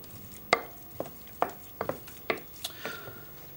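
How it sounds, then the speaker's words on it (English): A spoon stirs butter into hot potato purée with soft, wet squelches and scrapes. About half a dozen separate strokes come at an uneven pace, close and quiet, with no talking. "So now I'm stirring the potatoes and butter in."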